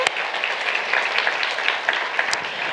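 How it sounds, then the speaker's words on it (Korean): A church congregation gives a dense, steady round of applause at an early-morning service, a continuous wash of many hands with no talk over it. "하나님께 영광의 박수 올리겠습니다"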